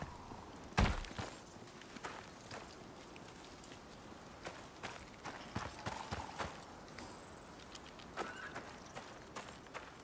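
Horse hooves clip-clopping in the video game Icarus, irregular thuds and clops at moderate distance over a soft rain-like background hiss, with one louder knock early on.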